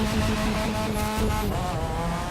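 A car drifts hard around a tight corner in the racing game The Crew 2, its tyres screeching continuously over a loud, sustained engine roar.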